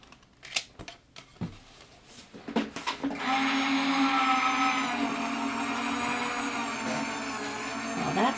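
A die-cutting machine feeds Pink Fresh Studios decorative frame dies and cards through in one pass: a few sharp handling clicks first, then a steady, fairly loud mechanical whirring hum that runs evenly to the end.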